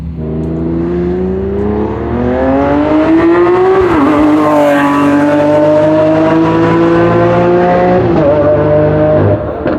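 A loud, high-revving Lamborghini sports car engine roars up close, its pitch climbing, dipping with gear shifts and climbing again as it passes.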